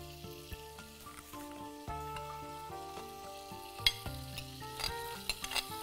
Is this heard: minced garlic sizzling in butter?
yes